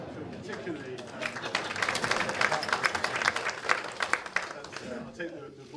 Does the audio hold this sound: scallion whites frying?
no